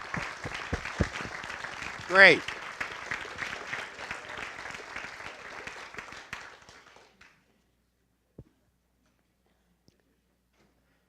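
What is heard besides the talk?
applause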